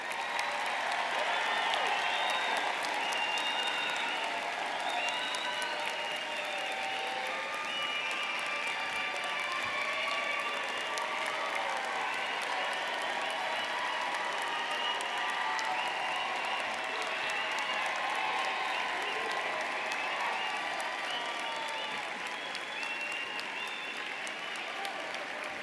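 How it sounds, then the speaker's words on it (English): Sustained applause for graduates fills a commencement ceremony hall, a steady, even wash of many hands clapping at moderate distance, with faint cheers mixed in and no break for the whole stretch. "So another round of applause for our graduates."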